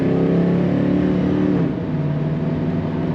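A 1979 Chevrolet Camaro Z28 pulls under throttle from inside the cabin, its V8 a dense, loud drone with a rising tone that eases off partway through, then settles lower.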